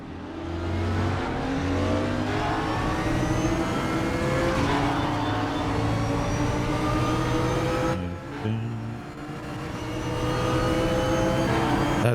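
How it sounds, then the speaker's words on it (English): Sustained race car engine from a McLaren GT car in the RaceRoom racing game, droning loud and steady with harmonic whine, a brief dip as the revs drop around a shift, then climbing back to full throttle. "does have such a nice sound, that McLaren"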